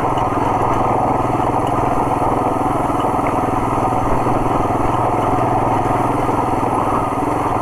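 A Royal Enfield Himalayan motorcycle rides off-road in second or third gear, its engine thrumming loudly and continuously close up with a steady rattling drone.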